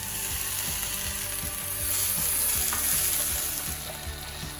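Diced tomatillos sizzling and frying in a hot pan, a steady crackling hiss with faint stirring scrapes, close and continuous with no talking.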